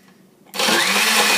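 A blender kicks on abruptly after near silence and roars loudly on its mix setting, churning a homemade chocolate-strawberry drink with a steady, close whirring drone.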